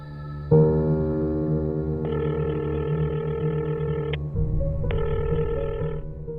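A telephone rings on an outgoing call: steady electronic ringback tones in long and short bursts, loud and close, with a low hum underneath and no talking.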